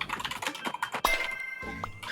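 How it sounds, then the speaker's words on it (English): Rapid keyboard typing clatters close by during a gaming session, a quick run of clicky keystrokes with a brief pause before more taps. "Keyboard typing noises."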